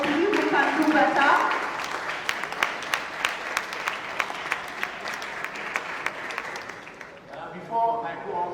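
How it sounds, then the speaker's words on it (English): Applause from an audience at an address, starting as a dense burst with some voices, then dwindling to scattered, distinct claps in a slow irregular rhythm before speech resumes at the end. "Is there for the applause? I believe we can do better."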